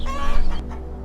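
Cartoon chickens cluck in a short, loud burst of a few clucks, close and alone.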